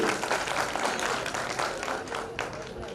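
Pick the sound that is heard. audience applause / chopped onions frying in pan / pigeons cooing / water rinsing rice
audience applause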